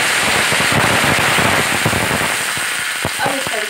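Mustard seeds crackle and pop in hot oil for a tempering, a dense run of sharp close crackles filling the clip, with faint background sounds.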